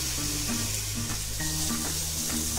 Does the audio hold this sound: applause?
no